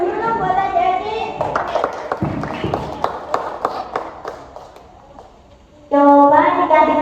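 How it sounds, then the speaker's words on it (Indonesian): Children at a Quran school hand-washing session clap in a quick patter of sharp claps of moderate loudness, with talking before and after. "Tepuk tangan dulu buat adik-adik"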